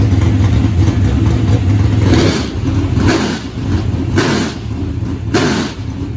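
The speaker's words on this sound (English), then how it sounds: "so just gonna give her a bump start now" A USAC/MSCS sprint car engine bump-started and revved, loud and close, with a rough rumbling drone and several sharp throttle bursts rising and falling.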